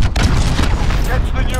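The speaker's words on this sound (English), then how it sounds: "Allied cruise missile away." A cruise missile strike in Modern Warfare, loud booming explosions and rapid gunfire crackling in a dense, close burst, with voices speaking over the blasts.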